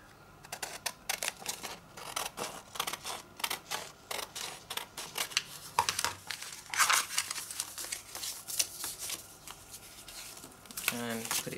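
Paper ephemera is folded and handled for a mini journal, giving close crinkling, rustling and sharp creasing sounds in irregular bursts, with quiet speech now and then.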